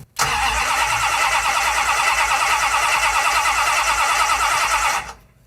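A vintage circle-track Dodge Charger with a freshly installed camshaft cranks hard and loud at close range for about five seconds in a steady, rhythmic churn, then cuts off abruptly. No voices are heard.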